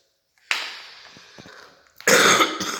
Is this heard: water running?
no